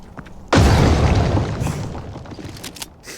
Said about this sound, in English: Try using a frag here.